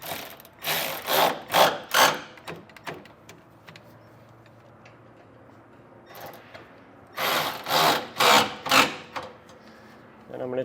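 Bolts on Air Lift LoadLifter 5000 Ultimate rear air helper springs are snugged down by hand with a 6mm Allen key, giving two bursts of quick ratcheting clicks separated by a pause, close and fairly loud, with faint speech underneath.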